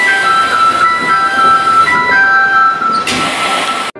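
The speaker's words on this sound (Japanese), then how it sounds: "電車は仙台駅を出発しました。" A Sendai subway train pulling out of Sendai Station, with a tonal departure chime or melody over rising motor hum, then a brief burst of noise near the end.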